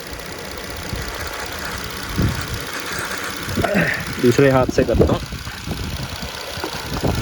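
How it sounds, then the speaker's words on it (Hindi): A car engine runs rough and shakes with a misfire after a connector is unplugged during diagnosis, an irregular low knocking idle heard up close under a man's speech. "ये देखिए इंजन कांप रहा है, मैंने ये डिस्कनेक्ट कर दिया है, गाड़ी चल रही है।"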